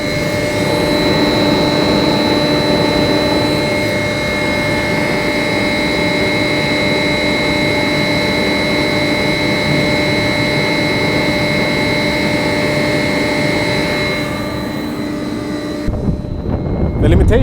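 A loud, steady mechanical whine with strong sustained tones and a low rumble from the electric drive motor of an old converted tugboat runs throughout, cutting off abruptly near the end.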